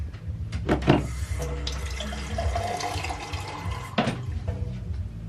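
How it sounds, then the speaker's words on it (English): Water runs from a tap and splashes into a container, a steady close gurgle with a few louder bursts of flow. "So I'm gonna go get some water and fill this up, okay? Turn it on."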